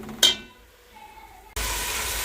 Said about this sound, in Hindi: इसमें मैंने बताया था गरम मसाला, और इसको अच्छे तरीके से भून लेते हैं।